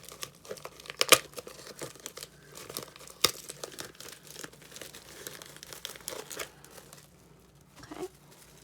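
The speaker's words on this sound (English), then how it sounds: "carefully remove the plastic wrap" Plastic wrap is peeled off a decorative leaf bowl, giving close, intermittent crinkling with a few sharper crackles and tearing sounds, then a brief quieter stretch.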